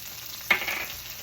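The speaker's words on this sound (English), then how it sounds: "Go ahead and saute your onions." Onions and ginger frying in a pan for a steak and shrimp stir fry, a steady soft sizzle with a sharper burst as something hits the hot oil partway through, close and alone.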